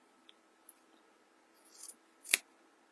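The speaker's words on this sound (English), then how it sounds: "I've picked the worst scissors I've got in my scissor keeper." Old, worn scissors snip fabric for a small sewn swim bag, a few faint clicks followed by a sliding cut and one sharp close snip, in a quiet room.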